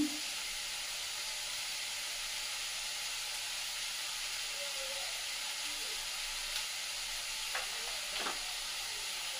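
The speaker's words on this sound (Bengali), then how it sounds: "সবজিটা একটু ফুল ফ্লেমে ভাজা ভাজা করে নেব" Vegetables frying on full flame in a pan for a spicy momo-and-soup meal give off a steady, even sizzling hiss, with a few faint clinks near the end.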